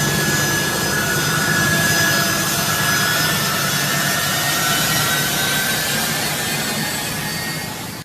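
Steady, loud roar of military jet aircraft engines at Kabul airport amid crowds fleeing Afghanistan, a continuous broadband rush with a high whine running unbroken throughout.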